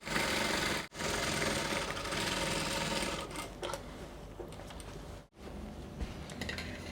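Close, steady whir of a sewing machine stitching a facing onto a dress neckline, running continuously with two brief stops and some light clicking toward the end, no voices.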